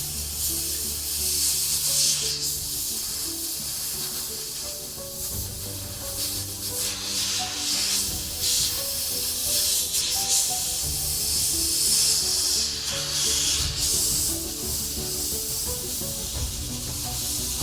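Airbrush spraying paint up close onto a Star Wars Legion Stormtrooper miniature, a steady continuous hiss held through the whole stretch with slight swells and low background hum beneath.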